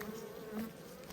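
A calm colony of honey bees drones softly at an opened hive in late winter, an even, close, low buzz with a few individual bees whining past.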